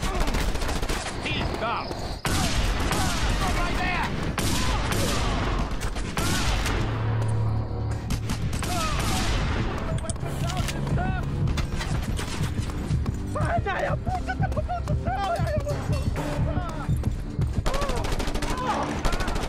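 Shotgun blasts ring out in the action video game Just Cause 2, with repeated sharp shots in uneven bursts over continuous busy in-game noise and occasional voices.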